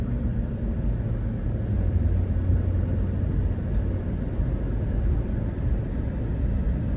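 A 2008 GMC Yukon Denali 6.2 cruises along in a steady low road rumble with a soft engine drone, heard from inside the cabin and continuous without change.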